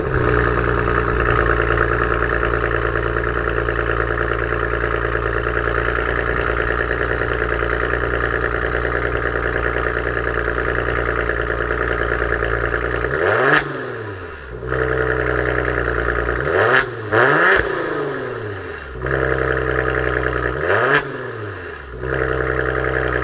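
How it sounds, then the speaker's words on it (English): Maserati Levante S Q4 GranSport 2019 with its V6 bi-turbo engine, idling steadily before three sharp throttle blips with rising and falling pitch near the end, close and loud, no speech. "this V6 bi-turbo engine is one of the best sounding V6 engines of this age."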